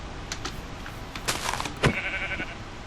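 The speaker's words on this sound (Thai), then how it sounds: "มีพลังเดี๋ยวลองต่อยแกะดู" Blocky sheep in Minecraft bleats once after being punched, a short nasal cry following a few soft thuds and clicks, with faint game ambience beneath.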